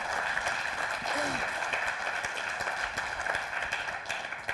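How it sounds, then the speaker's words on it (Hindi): Audience applause at the Kisan Tak Summit 2024 for an FPO director, a dense, steady patter of many hands clapping throughout, with faint voices mixed in. "जोरदार तालियां हो जाए भाई नीलम जी के लिए।"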